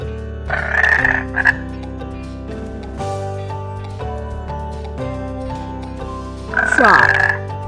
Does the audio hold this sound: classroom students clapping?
no